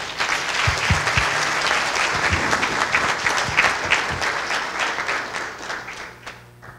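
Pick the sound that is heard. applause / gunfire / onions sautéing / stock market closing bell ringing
applause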